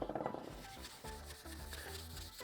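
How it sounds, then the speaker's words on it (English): Hand sanding a metal part with a lubricant such as Maxima MPPL or WD-40: close, rhythmic rasping strokes, each a soft gritty rub, repeating steadily for a few seconds with no talk. "you can sand with a lubricant such as Maxima MPPL or WD-40"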